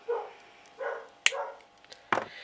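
Dogs bark a few times nearby in a quiet indoor space at home while builders work, sharp separate yelps and woofs spaced out with short pauses, with a couple of faint clicks between them.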